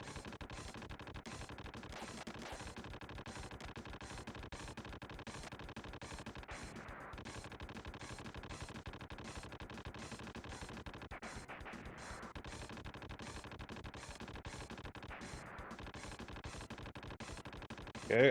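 Rapid, continuous gunfire effects from an SNES lightgun shooting gallery game, with steady repeating blasts layered over a dense, unbroken game soundtrack throughout.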